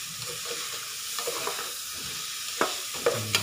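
Hotdog pieces being stirred in a frying pan for sopas, with a steady low sizzle of frying under soft scraping and a few sharper clinks of the utensil against the pan near the end.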